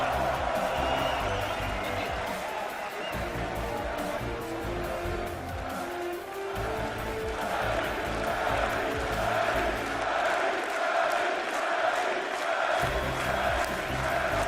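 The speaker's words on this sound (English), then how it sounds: "There is a standing ovation in the hall. Everyone chanting his name." Esports hall crowd at a European League of Legends playoff match, standing and cheering loudly as they chant a player's name, a dense sustained roar of voices that stays steady and continuous, with rhythmic chant pulses.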